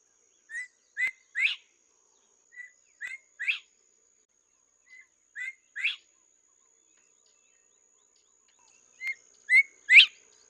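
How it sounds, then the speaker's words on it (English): Crested bobwhite calling loudly in grassy savanna, a series of sharp whistled phrases in repeated bursts of two or three notes separated by pauses, clear and close with no other sounds. "the crested bobwhite, which live in the savanna practically covered with grass, need a very loud call to communicate with the mate or with the flock"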